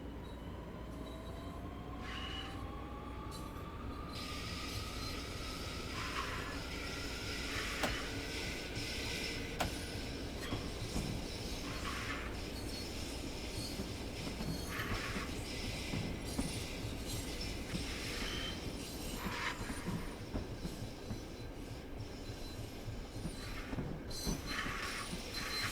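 A Long Island Rail Road train in Train Sim World 4 rolls into sidings with a continuous low rumble of wheels on track, repeated clunks over joints, and a rising wheel squeal, heard steadily and fairly close throughout.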